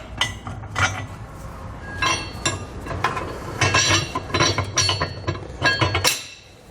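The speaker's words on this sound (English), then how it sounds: "lining up our holes, and then inserting our bolts" Metal bolts are pushed through the cross tubes of an underbed fifth-wheel hitch kit on a 2021 GMC Sierra truck. Irregular sharp metallic clinks and taps ring out close by, with no talking.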